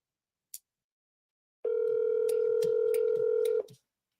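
An outgoing office phone call, with one short tone followed by a sustained steady ringback tone lasting about two seconds, then quiet. Nobody speaks.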